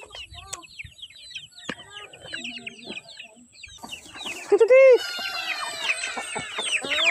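Chickens cluck and chatter close by as mixed, softened feed is given to them, with busy overlapping calls that swell into a loud flurry of squawks toward the end.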